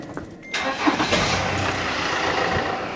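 A Mercedes Sprinter campervan's engine cranks briefly and catches, then settles into a steady idle, close and fairly loud.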